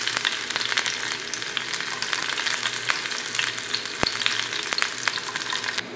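Mustard seeds and chopped green chillies fry in hot oil with a steady crackling sizzle, sharp pops and spits scattered through it, close and clear with no voices.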